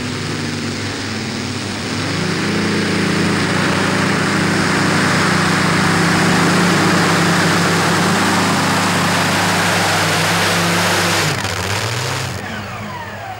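Century Fox, a pulling tractor powered by two Rolls-Royce Griffon engines of 5000 hp and 72.8 litres, makes a full pull at a tractor pulling event: a loud, sustained roar that rises and holds, then drops sharply near the end.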